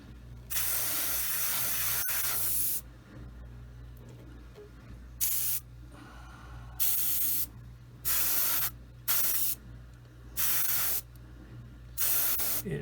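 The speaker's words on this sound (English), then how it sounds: "okay, I got something weird going on with this airbrush." Airbrush spraying paint on a Bandai X-Wing scale model, a close hissing jet in one long burst followed by a series of short, evenly spaced bursts over a low background hum.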